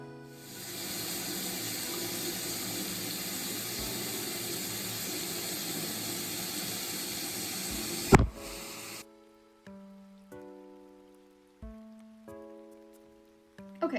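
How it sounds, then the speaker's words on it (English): A bathroom sink tap runs steadily for about eight seconds while a face is washed, then shuts off abruptly, leaving soft background music with a few faint clicks. "But I'm gonna go wash my face because I have to get ready."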